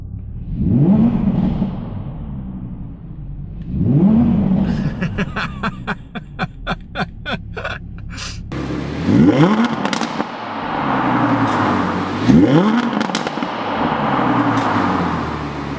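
A 2020 Audi R8 V10 Performance engine revs hard several times, rising and falling in loud bursts with rapid crackling pops in between, up close.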